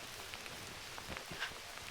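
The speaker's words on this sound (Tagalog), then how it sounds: "Nabutan po kami ng ulan." Rain pattering steadily on surfaces at a nature campsite during heavy rain, an even soft hiss with scattered drops and no talk.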